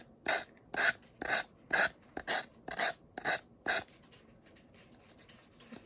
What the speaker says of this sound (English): you can use sandpaper instead, and you'll get a much softer edge